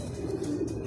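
A racing pigeon arrives at its loft after a race, giving a brief, soft, low cooing close by, with a steady background hum.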